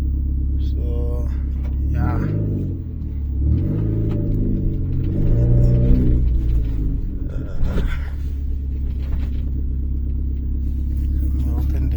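A Renault Clio RS with an aftermarket downpipe, its engine still cold, idles with a deep steady rumble and then revs in several rising, throaty sweeps before settling back, heard from close by.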